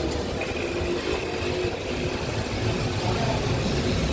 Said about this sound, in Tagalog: Tahimik ang makina ko.